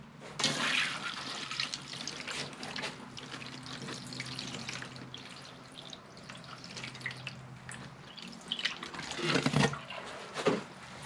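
Water poured over a freshly repotted Japanese trident maple bonsai, soaking into new soil with a steady splashing trickle and dripping, fairly close and continuous, with a couple of louder splashes near the end.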